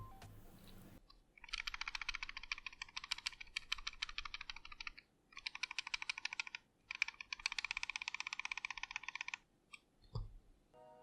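A VortexSeries Oni R1 gaming mouse shaken by hand gives a dense, rapid rattling clatter in several sustained bursts with short pauses, close and clear with no talking.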